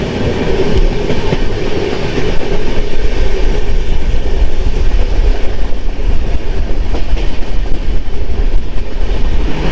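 A Howrah to NJP special passenger train running, heard from onboard as a steady loud rumble with rhythmic clickety-clack of wheels over rail joints, continuous throughout.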